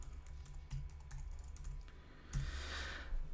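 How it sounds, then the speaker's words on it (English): Fast, light keystrokes on a computer keyboard, close and fairly quiet, tapping in quick runs over a low electrical hum before ending with a soft swoosh. "I'll just type in mine"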